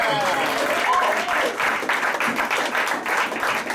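A live radio-show audience applauding a singer-songwriter, a dense, steady burst of clapping close by, with voices mixed into the noise.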